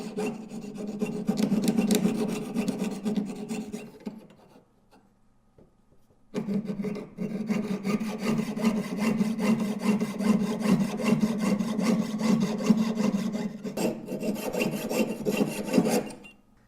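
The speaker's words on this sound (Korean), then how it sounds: "이렇게 톱질을 하는 모습을 보여드려 봤고요" A jeweler's saw cuts metal at a jewelry bench with quick, even back-and-forth rasping strokes, close and clear, in two long runs separated by a short pause.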